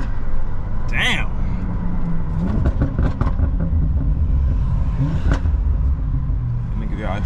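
A BMW X5M with stock exhaust rumbles and revs, the exhaust note rising with acceleration, loud and close, with people talking over it.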